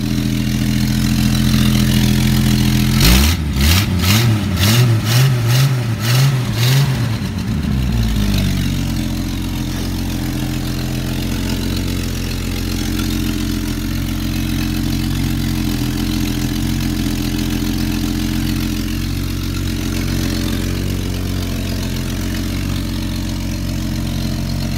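A 43-year-old car engine revs sharply in a few quick bursts, then settles into a steady, rumbling idle that carries on evenly to the end.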